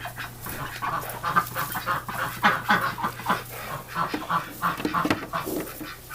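Muscovy duck at its nest, giving repeated soft, breathy hisses and low clucking calls in an uneven rhythm, close by, over a faint steady hum.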